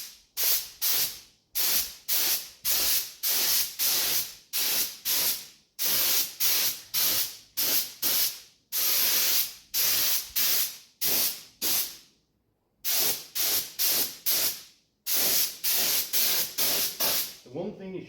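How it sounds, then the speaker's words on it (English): Spray paint hisses onto a 1971 Honda CD175 K3 fuel tank in short, even bursts, close and loud, repeating steadily with brief gaps and a couple of longer pauses. "The one thing you should always remember about spraying anything is you don't blast it all on in one big thick coat"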